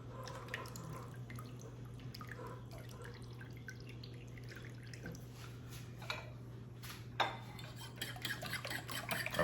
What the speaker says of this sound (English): Gonna use the juice of this orange.